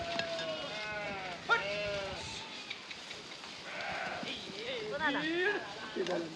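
Several wavering bleats from a goat or sheep, fairly close, with people talking over and between them and a light patter in the background.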